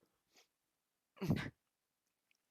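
A single short sneeze, quiet and close, with faint breaths before it and near silence around it.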